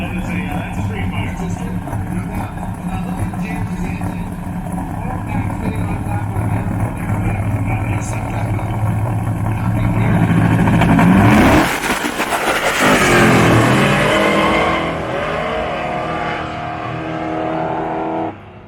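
Dodge Roadkill Nights side-by-side drag race, cars including a primer-painted, big-cowl-hood street fighter and a Nova, with loud engines roaring and swelling past midway amid crowd noise and talk.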